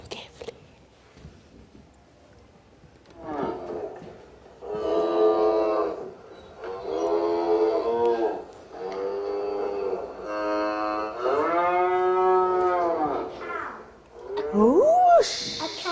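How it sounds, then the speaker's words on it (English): A cow lows in a series of long, harmonic moos, five or six drawn-out calls in steady succession, heard close and clear against quiet background. "It's a cow, very good."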